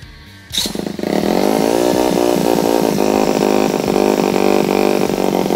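A repaired mini ATV engine, rebuilt from scrap, starts up and runs through a new exhaust pipe, giving a close, buzzy, revving drone with small rhythmic throttle blips that holds steady for several seconds.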